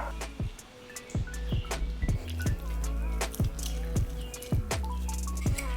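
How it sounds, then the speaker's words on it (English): A soft, juicy lime is twisted by hand on a reamer, giving a run of wet squelches and quick squishy clicks in a steady rhythm, close up, with no talking. "Use my reamer. I get the juice in here."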